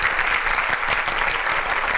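A gathered crowd claps steadily through an Onam celebration's community run event, the dense applause filling the whole stretch at an even, fairly loud level with no talking.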